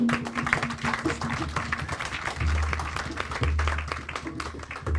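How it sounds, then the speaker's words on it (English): An audience applauds at a Hurricane Melissa response event for Jamaica, with steady, moderately loud clapping throughout and a low hum underneath. "Please give her a warm round of applause."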